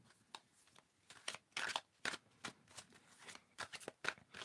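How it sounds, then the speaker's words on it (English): Oracle cards being shuffled by hand in a series of quick riffling bursts, close and crisp with short pauses between, no talking over them. "We're just gonna shuffle this up"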